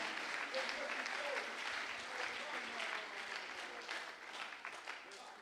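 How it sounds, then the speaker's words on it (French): A church congregation claps loudly and steadily, broad dense applause filling the room for the whole stretch and easing off slightly toward the end. "J'aimerais qu'on l'acclame très fort."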